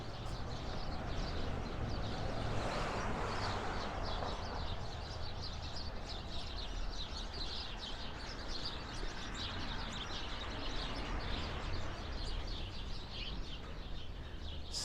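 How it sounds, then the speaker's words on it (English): A flock of sparrows chirps busily on a 15th Avenue street in Brooklyn, with dense, overlapping high twittering that runs continuously for about fifteen seconds over steady outdoor street noise. "Got a little bit of a sparrow convention going on here."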